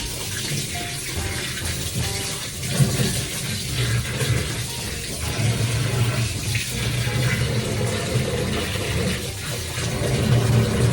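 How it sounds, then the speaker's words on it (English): Water runs steadily from a tap to rinse something in a Dominican home kitchen, a continuous broadband rush that carries on throughout with no talking. "Cut the water on"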